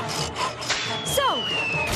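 A cartoon scene of a saw rasping back and forth through wood, with rough repeated strokes, loud and close, alongside whooshing and sliding effect tones.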